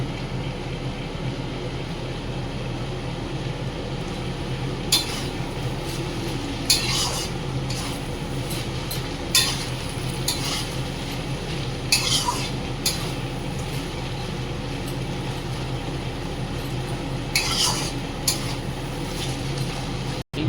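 Chow mein with egg and sauce is stir-fried in a pan at home for a breakfast tiffin, making a steady sizzle under repeated scraping and clinks of a spatula against the pan, with no talk.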